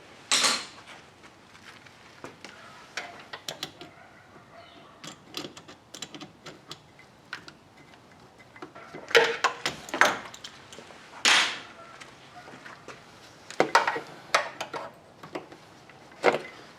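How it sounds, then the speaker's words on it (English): Pliers working on a hose clamp in the engine bay of a 1987 Toyota Camry: scattered sharp metallic clicks and clanks, some louder clusters of taps and scrapes, with quiet pauses between them. "I need to get some pliers, take off the clamp"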